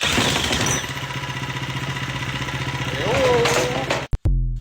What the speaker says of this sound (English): we'll bring you back when we get the engine running